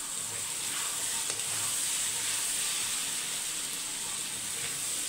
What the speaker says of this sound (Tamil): தோல் உரிச்சிருக்கிற உருளைக்கிழங்கா சேர்த்துடலாம். இப்போ மிக்ஸ் பண்ணிக்கலாம்.